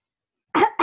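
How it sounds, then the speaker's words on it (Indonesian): A single sharp cough bursts out of silence midway, close to the microphone, followed by the start of a second short cough at the very end. "Sorry, batuk."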